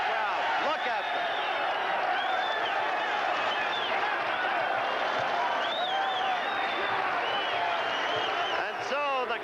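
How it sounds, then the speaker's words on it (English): A boxing arena crowd roars continuously after a fight, a dense, loud wall of cheering and whistles with a commentator talking over it. "Listen to this crowd."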